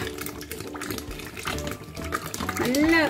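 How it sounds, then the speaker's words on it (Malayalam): Coconut oil is poured into a container in a steady, close, liquid trickle that grows fuller toward the end, with a voice talking over it. "ഞാൻ ഈ വെളിച്ചെണ്ണ ഇതിൽ ഒഴിച്ചു കൊടുക്കുക."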